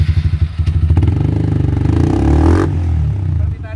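Motorcycle engine revving hard during a quickshifter module test run, a loud, close, rising roar with rapid pulsing clatter and quick shift cuts, ending in a sharp drop.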